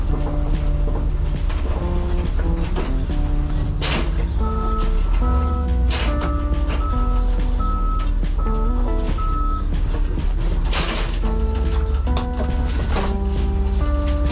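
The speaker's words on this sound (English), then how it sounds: "Have you ever tried to parallel park a bread truck? Me neither, but I'm about to try" A bread truck backs up while parallel parking, its steady reversing beeper pulsing over the low hum of the engine, with background music playing throughout.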